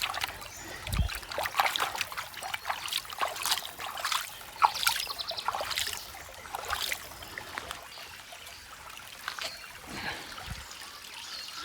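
Clear stream water trickles and burbles in Governor Dodge State Park, a faint, irregular run of small splashes and drips close by, fading softer toward the end.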